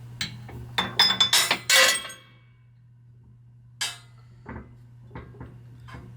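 A steel wheel bearing outer race is hammered into the front hub of a 1958-1964 Ford tractor, with a quick burst of sharp ringing metal strikes, a pause, then a few lighter taps over a low steady hum.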